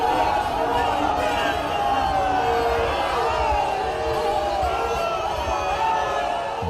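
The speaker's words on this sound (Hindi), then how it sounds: "गोदौलिया पर मौजूद सैकड़ों लोगों ने मोदी मोदी के नारे लगाकर उनका स्वागत किया" Hundreds of people gathered at Godowlia in Varanasi chant "Modi Modi" to welcome Prime Minister Modi, a continuous loud crowd roar of rhythmic chanting and cheering mixed with scattered shouts and chatter.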